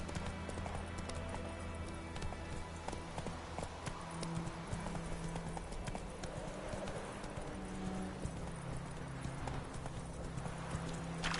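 Roach, the horse in The Witcher 3 video game, gallops with a continuous drumming of hooves, close and even-paced throughout, with a brief whinny partway and no talking.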